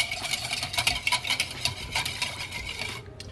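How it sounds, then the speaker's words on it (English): Eggs being whisked into a warm butter mixture for a baked Southern mac and cheese custard, a quick, busy scraping and clicking of a whisk against the bowl, steady and fairly close, stopping near the end. "Whisk it in so it can cool it down, the butter."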